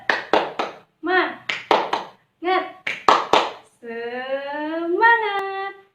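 A classroom ice-breaking game of rhythmic clapping in short grouped bursts, sharp and close, alternating with a voice chanting along and ending in a drawn-out vocal cheer.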